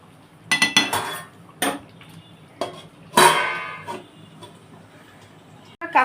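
A metal lid goes onto a cooking pot amid a run of sharp clanks and clinks of pots and utensils, several loud close knocks spaced over a few seconds with quiet gaps between.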